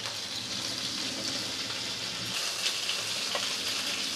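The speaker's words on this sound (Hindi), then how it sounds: "ये देखिए नेक्स्ट ट्रिप भी अच्छे से फ्राई हो गए शीक कबाब।" Mutton seekh kebabs frying in a pan, a continuous dense sizzle with fine crackling held at an even level from start to finish, close and clear.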